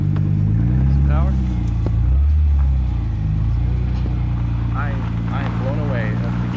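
A Mercedes C320 engine revs loudly and close by while offroading through a rocky gorge in Victory, Vermont, its deep rumble swelling and dipping in pitch across the stretch as voices talk faintly over it.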